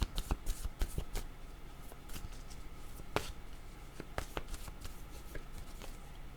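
Playing cards for a fortune-telling reading are shuffled and drawn by hand, making quick papery riffles and sharp snaps up close, busiest at the start and then coming in scattered bursts.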